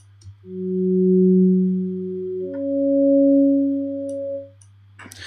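A steady synthesizer tone from Alchemy holds, then shifts to a pair of stacked pitches an octave apart, the higher overtone clearly riding above the fundamental over a low hum.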